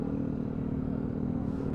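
Fortress 160 motorcycle engine on a night ride, a steady low droning hum at constant speed, close and continuous with no talk.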